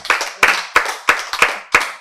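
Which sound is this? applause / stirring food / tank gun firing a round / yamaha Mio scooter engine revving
applause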